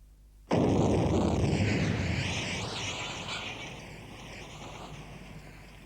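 A commercial gelignite bomb explodes into a fireball. A sudden, loud blast cuts in after near-silence, then becomes a broad, roaring rumble that slowly fades over several seconds.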